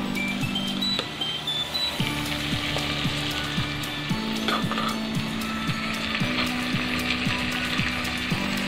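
Mung beans hit a hot frying pan for monggo guisado, with a steady, loud sizzle throughout. A faint, regular clicking pattern runs underneath and no one speaks.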